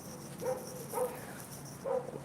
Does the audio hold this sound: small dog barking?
yes